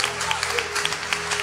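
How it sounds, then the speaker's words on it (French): A church congregation applauds, brief rhythmic clapping heard at moderate level and slightly distant, with faint voices underneath. "Acclamons pour le Saint-Esprit."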